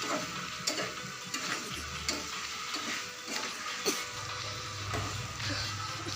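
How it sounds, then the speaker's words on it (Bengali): Okra stir-fried with prawns in a pan, a continuous close sizzle with repeated ticking clinks of a spatula against the pan and a low hum in the background. "এবার আমি ঢেঁড়স দিয়ে আবার একটু কষিয়ে নেব"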